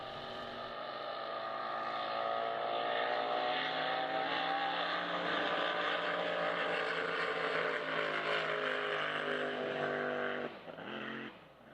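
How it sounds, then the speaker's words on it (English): A drag racing boat roars off the line on a creek racing lane in San Angelo, a loud sustained engine howl that builds and holds for about ten seconds before cutting off. "And in the Superior Audio Sounds right lane, boat number 990 is Steven Sutton."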